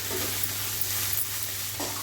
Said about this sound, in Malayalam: ഇതൊന്ന് നന്നായി ഫ്രൈ ആവട്ടെ